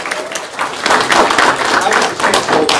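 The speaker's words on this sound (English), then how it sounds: "Yep, give him a hand clap" An audience at a county board of education meeting applauds a coach, dense close clapping from many hands rising after a quieter start and holding steady throughout, with voices mixed in.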